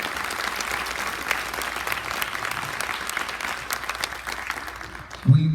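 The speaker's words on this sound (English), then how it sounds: "Everybody give a big round of applause for your support." A crowd applauds steadily with sustained, dense clapping that tapers slightly near the end before a brief voice cuts in.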